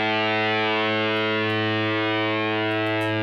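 Guitar run through a distortion effect programmed on a Sigma DSP ADAU1452, a single sustained, heavily saturated note buzzing with dense harmonics, loud and steady throughout with no playing breaks.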